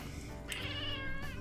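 A single drawn-out cat meow, close and clear, rising over a steady background hum.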